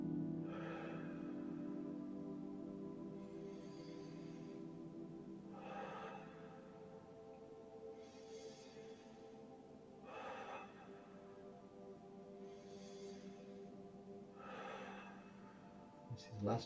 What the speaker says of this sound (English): So just 5 normal deep breaths.